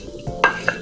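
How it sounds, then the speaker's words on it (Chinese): Chopped carrots, shiitake, dried scallops and dried shrimp are stir-fried in hot oil in a wok, a quiet sizzle broken by a few short scrapes and clinks of the spatula. "可以先把我们切好的胡萝卜、香菇、瑶柱、开阳碎先煸炒一下"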